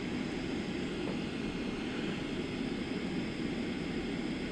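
Steady broadband aircraft engine drone from Microsoft Flight Simulator 2024, an airliner on approach, sounding even and continuous with no clear change in pitch, alone and at moderate level.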